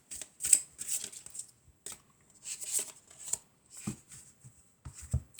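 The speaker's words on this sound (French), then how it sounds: "On va prendre 3 cartes" Tarot cards are drawn and slid from a deck in several soft, papery flicks and shuffles, close and fairly quiet, separated by short pauses.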